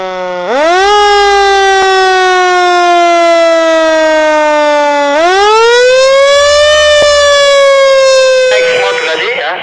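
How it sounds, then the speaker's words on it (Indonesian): A loud civil-defense-style warning siren sounds at a dam spillway construction project before blasting, rising to a sustained wail, dipping, then climbing again in a long second cycle that fills the whole stretch. "Sirine kedua dibunyikan mulai dari sekarang selama 5 menit."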